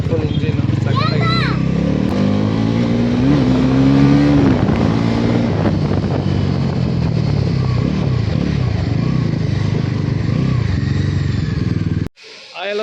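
A 2024 Bajaj Pulsar NS400Z motorcycle engine on a Bengaluru test drive, a loud, continuous engine drone with a rising and falling rev mid-way and wind buffeting, cutting off abruptly near the end.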